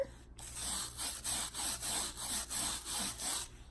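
A brush sweeps excess powder off a canvas, a steady back-and-forth rhythmic scratchy rasp of about a dozen strokes, close and moderately loud with no voices.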